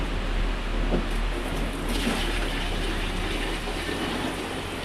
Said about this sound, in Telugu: తేకాలను ఉడకబెట్టేదానికైతే నీళ్ళైతే పోసేద్దాం